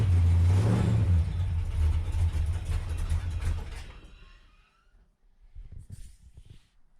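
A Dodge Coronet small-block engine idles up in neutral with the rear wheels spinning: a loud, close, rumbling drone for about four seconds that then fades, leaving a quieter mechanical murmur.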